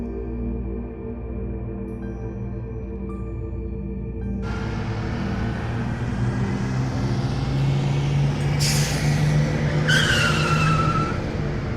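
A bus on the road to Shimla pulls up at the stop, a low idling engine hum that swells into louder rumbling and a pair of sharp hissing air brake bursts near the end, no voices.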